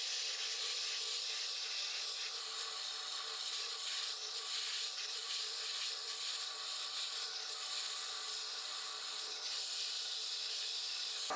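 Continuous sanding of a turned wooden leg for a tall round stool, a steady broadband rubbing hiss held at an even level throughout with no pauses and no voices.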